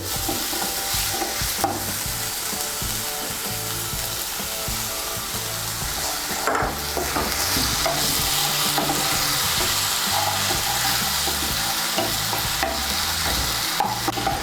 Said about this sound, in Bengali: টমেটো বাটাটাকে মিশিয়ে নিয়ে এর মধ্যে আমি দিয়ে দেবো গুঁড়ো মশলাগুলো